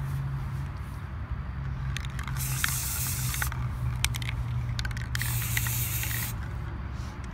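Blue spray paint hisses from an aerosol can onto a part in two long bursts, close and fairly loud over a steady low hum.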